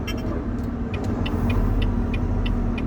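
A car drives down a big hill, giving a steady close road and engine rumble with faint higher clicks and no talking.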